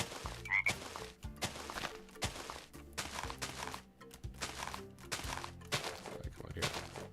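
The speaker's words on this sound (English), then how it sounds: "Oh, I hear the frogs." Frogs croak repeatedly in the video game Minecraft, a steady rhythmic run of low, pulsing croaks mixed with game music and ambient sounds.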